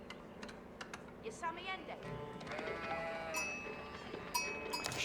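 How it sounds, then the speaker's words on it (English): Sheep bleat several times over the middle of the stretch in a real-time strategy game, with soft keyboard clicks and game ambience underneath. "We're getting some sheep."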